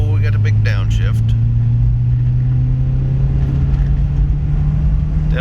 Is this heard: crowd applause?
no